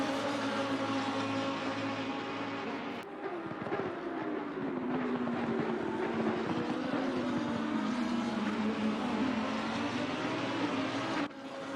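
A 2015 Lamborghini Huracan SuperTrofeo race car accelerates at the Nürburgring, its engine a sustained, moderately distant drone that rises and falls in pitch, with abrupt shifts at the start and end.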